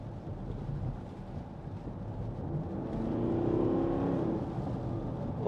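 A 2014 Porsche Cayenne 4.2 TD S diesel with Tiptronic S and 4WD accelerates on a road. Heard from inside the cabin, the engine note swells midway and then holds over steady road and wind roar, with no talk.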